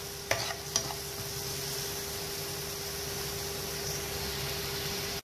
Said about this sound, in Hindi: मसालों को अच्छे से फ्राई करना है